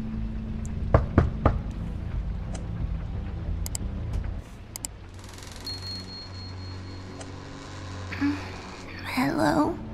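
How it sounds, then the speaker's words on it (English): A few sharp knocks on a door in The Wolf Among Us video game land close together near the start, followed by scattered clicks over a low steady ambient hum, with a brief voice-like burst at the end. "let's just knock on the door."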